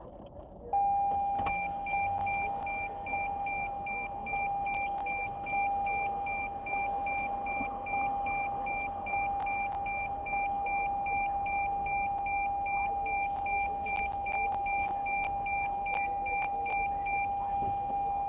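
Steady electronic beeping from a vehicle, pulsing in an even repeated rhythm for nearly the whole stretch, fairly close and loud over faint background noise, with no talking.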